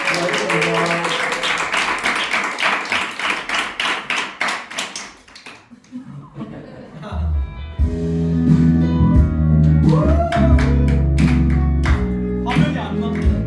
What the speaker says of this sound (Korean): 4년 동안 수고하신 우리 전도사님한테 박수 한번 합시다